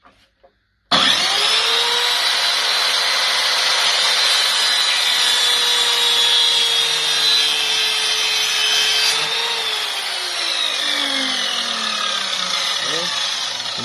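Power saw cutting wood for a handmade chess set, a loud sustained whine that begins suddenly and runs steadily, its pitch sagging near the end as the load changes.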